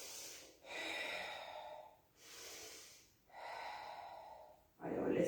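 Slow, deep breathing during a Pilates exercise: three long airy inhales and exhales alternate with brief pauses, close and fairly loud, ending in a sharper, stronger breath.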